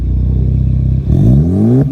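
A Ford Focus ST with a stock K03 turbo, a Megan Racing 3-inch catless downpipe and an MBRP 3-inch catback exhaust idles loudly and then revs up, its engine note climbing steadily before cutting off. No one speaks.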